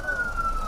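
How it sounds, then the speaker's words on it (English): An ambulance siren sounds on a rain-blocked highway among long lines of waiting vehicles, one steady wailing tone heard briefly over traffic rumble. "An ambulance on its way to pick up wounded finally got through."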